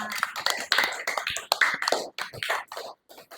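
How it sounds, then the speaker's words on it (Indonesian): Scattered, uneven claps ring out from a small group in a classroom after a lesson, loud and close, tapering off into gaps near the end. "Tepuk tangan dulu untuk kita semua."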